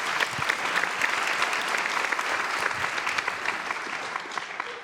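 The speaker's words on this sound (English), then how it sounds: "Let's give them a round of applause." An audience applauds a panel of guests at an evening talk on team culture, steady dense clapping, fairly loud and even, tapering off at the very end.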